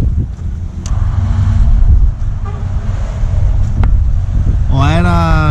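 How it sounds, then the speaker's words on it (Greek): Strong crosswind buffets the microphone while fishing for cuttlefish, a constant low rumble, with a brief tonal horn-like sound near the end. "Ο αέρας δυστυχώς έχει δυναμώσει πολύ και είναι καθαρά πλευρικός."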